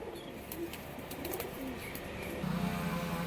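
A pair of Madras pigeons coo faintly with a few soft, low calls scattered over quiet background noise.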